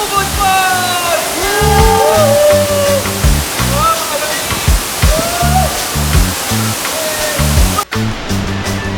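Ubot Falls, a waterfall in Aurora Province, roars loudly and steadily throughout, with people talking and calling out over the rushing water.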